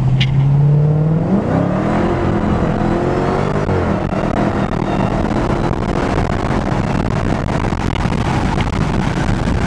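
A sports car fitted with Brembo brakes pulls hard, heard from inside: the engine pitch sweeps upward, shifts, then settles into a loud sustained roar mixed with road and wind noise.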